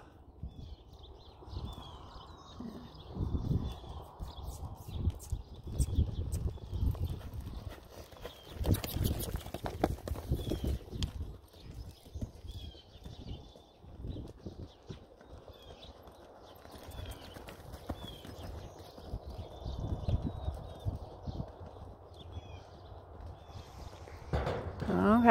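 A ridden horse lopes on soft ground, its hooves thudding in a rolling three-beat rhythm that comes and goes in loudness, with occasional creaks and a rider or trainer speaking intermittently over the footfalls.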